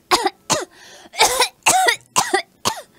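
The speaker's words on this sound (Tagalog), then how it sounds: "magso-soft launch ako ng ubo" A series of six sharp coughs and throat-clearing bursts, close and loud, with brief pauses between them.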